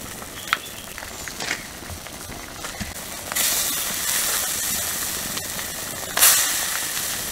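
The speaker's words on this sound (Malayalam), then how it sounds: "നമ്മുടെ കറി നല്ല പോലെ തിളച്ചിട്ടുണ്ട്." Fish curry boils in a pot on the stove: a continuous close hiss and bubbling simmer that swells louder midway, with a few faint clinks and no speech.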